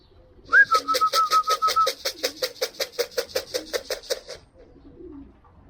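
A pigeon calls close by in a quick, steady run of pulsing notes, opening with a brief whistle, then stopping abruptly; nobody speaks.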